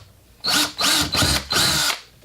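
A drill with an 1/8 inch bit bores pilot holes through a PLA filament spool in four short, loud whirring bursts separated by brief pauses.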